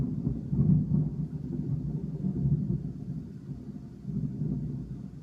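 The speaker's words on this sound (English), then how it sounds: "Y'all heard this thunder?" Distant thunder rolls in a low, steady rumble that swells and fades over several seconds, with no voices over it.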